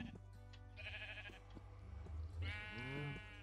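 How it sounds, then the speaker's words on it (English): A Minecraft sheep bleats twice, faint and distant, two drawn-out wavering calls over a low steady hum and a few soft tones. "the sheep over there is having fun. You can hear it very loudly"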